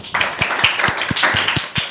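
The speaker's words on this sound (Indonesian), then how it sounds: "Oke, tepuk tangan dong." Clapping in a small classroom audience after a student presentation, a sparse group of hands giving a brief, uneven round of claps with distinct individual claps standing out close by.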